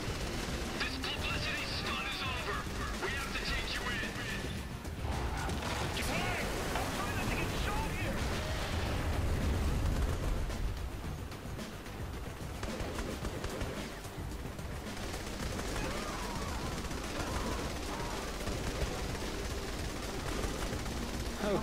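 Continuous Saints Row 3 gunfire crackles under a dense action mix, rapid shots and bursts throughout, with people talking over the shooting.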